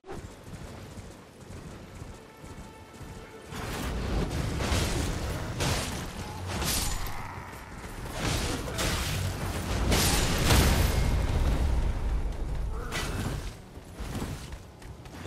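Explosions from an enemy throwing bombs in the Elden Ring video game: several loud booming bursts with whooshing blasts, arriving in clusters over a dense, noisy battle din.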